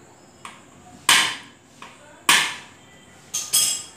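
Cutting pliers tapping a sewing machine lift rod: a few sharp metallic clicks and taps, spaced irregularly, close and fairly loud against a quiet background.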